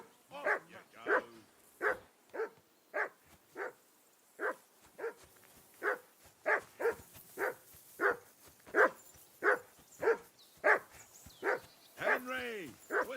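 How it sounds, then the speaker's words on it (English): A dog barks repeatedly in a steady rhythm in the video game Kingdom Come: Deliverance 2, moderately close, with a brief whimpering yelp near the end. "Whistle at that mutt of yours to stop barking!"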